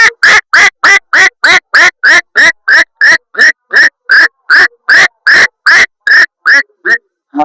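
A man imitates a duck with about twenty loud, nasal quacks in a fast, steady rhythm, close up and alone, slowing slightly at the end.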